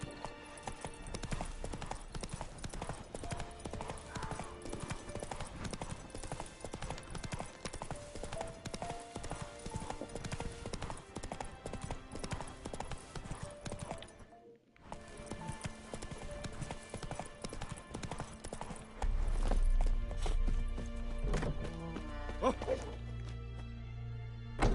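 Roach the horse clip-clops along in Witcher 3, a steady rhythmic run of hoofbeats against game music, with a brief gap midway and a louder low-pitched swell near the end.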